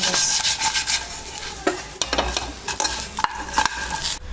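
Homemade plantain chips are tossed and stirred with Himalayan salt, pepper and cumin, giving close, steady scraping and rustling with a few sharper clinks and faint sizzle-like crackle throughout.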